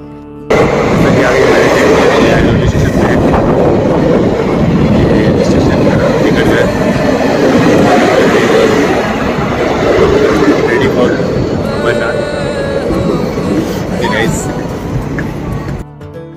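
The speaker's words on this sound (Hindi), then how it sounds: "ये ट्रेन आ गई है जम्मू तवी, B7 कोच" Train pulling into Jammu Tawi railway station, a loud continuous rumble of rolling carriages and clattering wheels close by, with people talking over it throughout.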